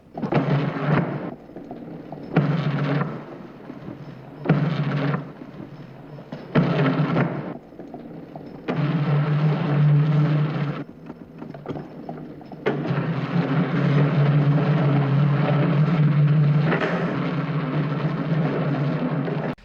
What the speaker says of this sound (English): the big wheel, I guess, going between the carpet and the wood, making that crazy sound